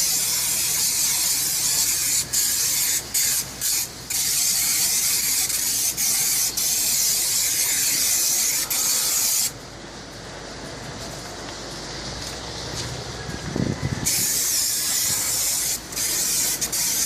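Aerosol plastic and tire shine hisses out of the can in loud, steady bursts with short gaps between presses, followed by a quieter stretch of softer spraying before the loud hiss resumes.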